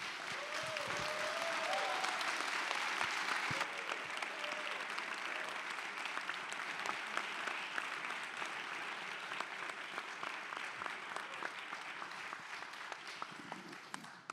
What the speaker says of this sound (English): And let's get this man a round of applause.